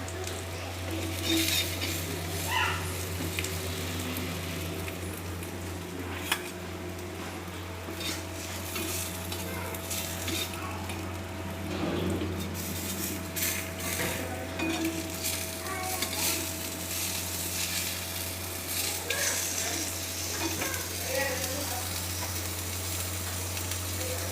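Bhakur fish fries in a pan, with a soft, continuous sizzle under repeated scraping and clinking of a spatula against the metal, all over a low steady background hum.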